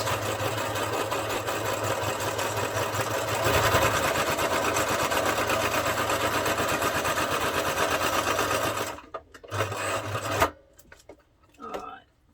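A sewing machine running a straight stitch in black thread on concertina-style bag tags, a steady fast mechanical buzzing hum that holds for about nine seconds, then stops and restarts briefly in short bursts.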